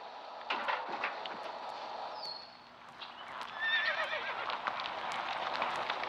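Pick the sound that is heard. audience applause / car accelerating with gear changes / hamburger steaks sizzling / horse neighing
horse neighing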